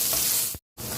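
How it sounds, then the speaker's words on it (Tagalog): Garlic and ginger frying in hot oil, a dense hiss of sizzling that cuts out abruptly for a moment before resuming, close and steady. "Fry natin yung garlic."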